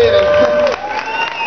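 Audience clapping and cheering at a live rap concert, a steady crowd roar that continues throughout with a voice over the top.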